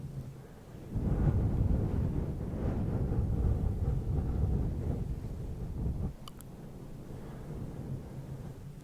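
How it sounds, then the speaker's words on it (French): Strong gusts of wind on a beach on the west coast of France roar and rumble against the microphone for several seconds, then ease off to a softer, steadier blow. "Beaucoup de vent."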